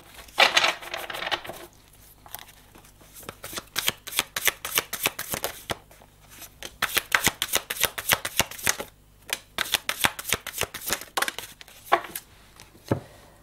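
Oracle cards are shuffled for a reading in repeated quick riffling bursts of crisp, close-up flicks and slaps that continue with short pauses throughout, with no talking.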